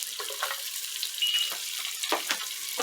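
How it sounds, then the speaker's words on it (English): Shallots sizzling in melted butter in a pan, a bright steady frying crackle with brief bursts as the pieces are stirred, close and alone. "now that my butter's starting to melt down a little bit, I want to go ahead and add in a little bit of shallots"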